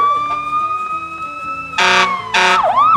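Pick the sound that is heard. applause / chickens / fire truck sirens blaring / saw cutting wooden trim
fire truck sirens blaring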